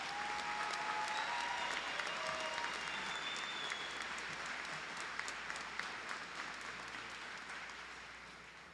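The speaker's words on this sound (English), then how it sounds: "Would everybody please join me in another round of applause for Olivia this evening?" An audience at an evening commencement ceremony claps steadily, a dense wash of applause that holds strong and slowly tapers toward the end.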